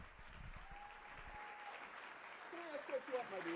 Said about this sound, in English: Come on, let's keep the applause going.